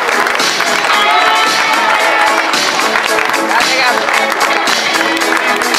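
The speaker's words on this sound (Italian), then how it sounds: "Questo applauso." Audience applause with some cheering during a basketball team presentation for the Stings 2015/16 season in Mantua, a dense, steady crowd roar that fills the whole stretch at close range.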